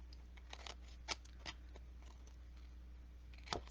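Excess paper being trimmed off the edge of a handmade card, a few soft, crisp snips and crunches spaced irregularly against a quiet background hum, close and faint.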